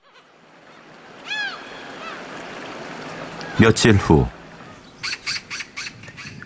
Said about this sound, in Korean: 동네 가득한 까마귀 울음소리.